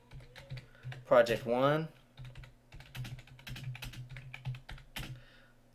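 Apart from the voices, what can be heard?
typing on a computer keyboard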